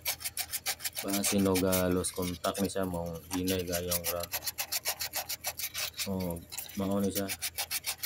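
Sandpaper rubbing back and forth on a ground wire of a Honda CR-V that won't start, raspy strokes in quick bursts, close and clear, with someone talking in between.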